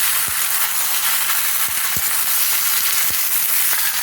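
Vegetables fry in hot oil for Bengali dabga shukto, a steady, loud hissing sizzle throughout, punctuated by a few soft pops and crackles, with no voices.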